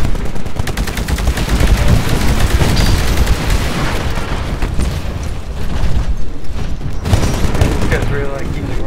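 Dense rocket blasts and rapid gunfire from the video game Titanfall pound continuously, with booming explosions layered over chattering automatic fire.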